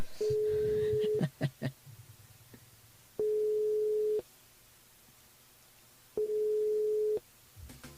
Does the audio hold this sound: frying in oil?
no